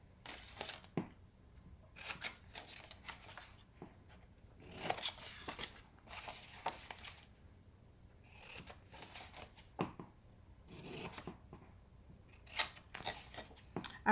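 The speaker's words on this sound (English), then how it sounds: "now I'm just going to trim these tabs a little bit" Scissors snip repeatedly at paper tabs on a handmade gift box, quiet close cuts in irregular bursts with soft paper rustling between them.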